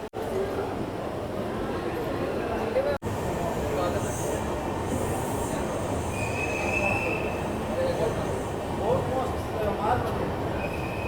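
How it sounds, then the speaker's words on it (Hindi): A passenger train rumbles slowly along the rails into platform 2 at SMVT Bengaluru station, with a loud sustained wheel squeal and continuous low rolling noise, with faint chatter in the background. "अपनी रेक को प्लेटफॉर्म नंबर 2 पे लगाया जा रहा है"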